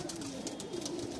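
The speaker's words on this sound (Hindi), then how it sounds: "ये कौन सा कबूतर है? ये घर का है, घर का क्रॉस ब्रीड है" Crossbred domestic pigeons coo in a low, continuous murmur at a home loft, fairly close and steady with no voices.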